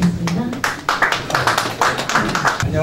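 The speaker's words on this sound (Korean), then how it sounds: "큰 박수로 부탁드리겠습니다." Applause at a campaign office opening ceremony for a National Assembly candidate, a run of fairly crisp, individually distinct claps close by, with a voice briefly speaking at the start and end.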